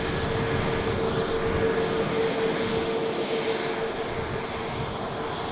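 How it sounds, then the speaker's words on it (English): Steady roar of an aircraft engine on approach to Manchester Airport, a continuous broadband drone with a faint sustained whine, holding at a constant level throughout with no talk. "Do have an aircraft on approach."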